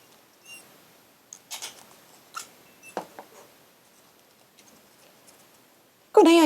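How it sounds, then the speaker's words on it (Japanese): Folded paper for a Halloween decoration being stapled, several sharp, sparse clicks and crunches spread across a quiet room, then a sudden loud burst at the very end. "この折り山のところをですね、まず3箇所ホチキスで留めていきます。"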